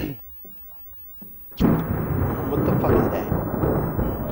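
Thunder in a horror video game bursts in with a loud, deep rumble after a quiet stretch and rolls on heavily for several seconds.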